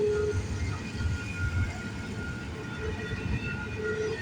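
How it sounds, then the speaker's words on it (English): A freight train rolls past on a rainy morning, giving a steady rumbling drone of cars on the rails with faint sustained metallic squealing tones running over it. "then this train came by"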